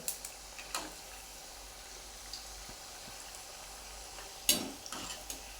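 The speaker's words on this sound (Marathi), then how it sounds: "जास्त वेळ नाही लागत ह्या कापण्या तळायला एक दोन ते तीन मिनटामध्ये तळून होतात" Jaggery kapnya sweets deep frying in oil, a soft continuous bubbling sizzle with occasional sharp clinks of a utensil against the pan, close but fairly quiet, without talk.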